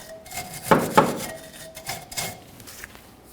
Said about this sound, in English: You can use a wire brush, piece of sandpaper, whatever you've got.